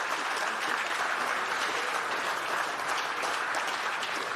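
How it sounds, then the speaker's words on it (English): An audience at the Fieldays Innovation Awards claps for an equine monitoring device, a dense, even wash of applause that holds steady without any voices over it. "So again, a round of applause for Alert."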